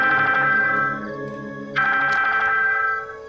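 A mobile phone ringtone for an incoming call repeats a bright electronic melody, loud and close, pausing briefly before starting again, with no voices over it.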